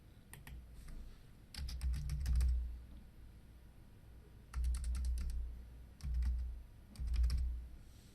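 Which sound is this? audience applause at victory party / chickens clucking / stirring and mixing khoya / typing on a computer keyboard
typing on a computer keyboard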